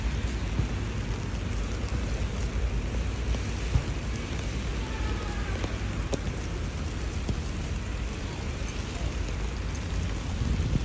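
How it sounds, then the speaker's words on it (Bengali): Steady rain falling outdoors, a dense continuous hiss with scattered drops, constant and moderately loud throughout, with faint voices in the background. "বৃষ্টি হচ্ছে"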